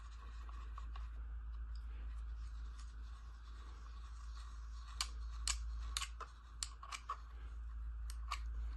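Small metal fittings on an AR-style stock for a Hi Point carbine are tightened down, giving faint, scattered clicks and ticks that cluster in the second half over a steady low hum.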